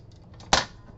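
A single sharp cut or snap through card stock, one short crisp burst close up against a quiet room.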